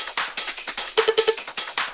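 Hard trance top loops and rave loops from a sample pack play as a fast, busy pattern of bright percussive hits with a short stabbed synth figure in the middle, loud and steady.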